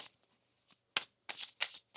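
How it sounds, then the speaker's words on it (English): Tarot cards are shuffled up close in a quiet room, a few separate papery riffles and slides, each a brief crisp burst with short pauses between. "One more shuffle here."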